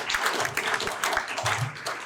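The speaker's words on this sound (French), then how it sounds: "vous pouvez applaudir ça" Dense, continuous applause from a packed indoor audience at a left-wing and ecologist municipal campaign rally, a thick wash of many hands clapping with some crowd noise mixed in.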